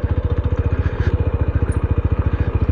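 A motorcycle engine idles steadily in a resort parking area, its low, even thumping pulse running without a break from start to finish and sounding close by.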